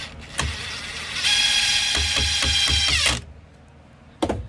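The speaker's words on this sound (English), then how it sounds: "It's actually easier if I run it in with the impact." An impact driver sinks a screw into a pallet wood board with a short burst of rapid rattling hammer blows lasting about two seconds, close by, followed by a quiet pause and a single clack.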